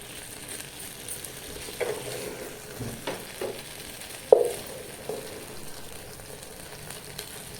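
Paneer tikka fries in a pan with a soft, steady sizzle, broken by occasional clinks and scrapes of a utensil against the pan, one sharper knock standing out.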